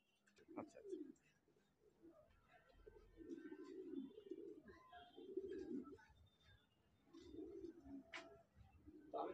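Pigeons of foreign breeds at a home pigeon farm coo in repeated low, throaty bursts, close and fairly quiet, with faint chirps and some soft background talk between calls.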